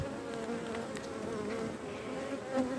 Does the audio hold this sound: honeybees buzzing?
yes